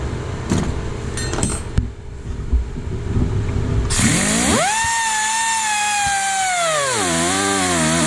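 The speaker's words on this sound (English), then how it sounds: "I'll just hack it off with the cutoff wheel right at that hole" A cutoff wheel bites into a Chevy distributor being converted for a flathead Ford: clanks and taps at first, then the tool spins up to a loud, steady high whine whose pitch sags and dips as it cuts.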